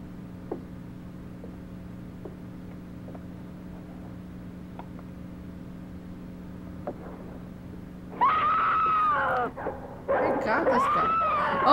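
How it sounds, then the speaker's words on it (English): Dog barking and whimpering in a 1960 horror film soundtrack, heard after a quiet hiss with faint ticks: a sudden close bark burst, a brief pause, then a longer stretch of yelps and whines. "Oh, the dog."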